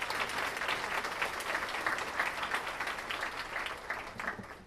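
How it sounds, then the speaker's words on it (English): Sustained applause from an audience at a ceremony honoring top high school seniors in Newark, steady and dense throughout, with a crowd clapping together at moderate distance. "So give yourselves a round of applause."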